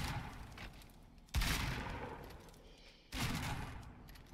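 Two heavy pump shotgun blasts from the game Fortnite, each a sharp loud crack followed by a sustained rumbling tail, spaced about two seconds apart.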